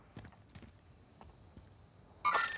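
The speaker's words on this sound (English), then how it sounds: "I'm hearing footsteps behind me." Faint, soft footsteps from an enemy player in the video game Warzone, a few irregular steps at a distance, followed by a louder burst of game noise at the end.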